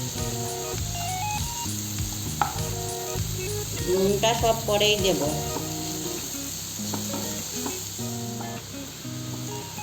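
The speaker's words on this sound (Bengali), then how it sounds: "আর মশলাগুলো দিয়ে একসাথে খুব ভালো করে কষিয়ে নেব। তেল ছেড়ে আসা পর্যন্ত খুব ভালো করে কষিয়ে নিতে হবে।" Spices fry in hot oil for a Bengali fish curry, giving a steady close sizzle as they are stirred and scraped in the pan, while a voice speaks briefly over soft background music.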